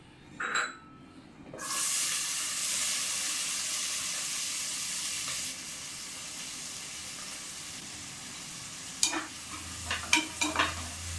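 Sliced onions and green chillies fry in hot oil, producing a sustained hiss and sizzle that drops in level midway. Several sharp clinks and scrapes of a stirring utensil come near the end.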